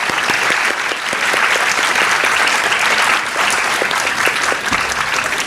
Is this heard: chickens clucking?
no